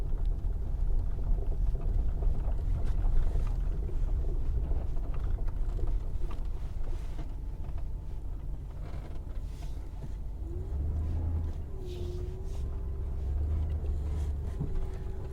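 A vehicle in 2-wheel drive crosses a wet yard, its steady low engine rumble continuous throughout with a faint rising whine partway through.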